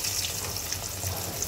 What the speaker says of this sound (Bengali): তো চলো মাছগুলি সুন্দর করে ভেজে নেই।